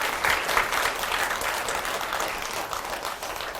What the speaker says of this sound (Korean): 세종대왕께 뜨거운 감사의 박수 한번 보내드리죠.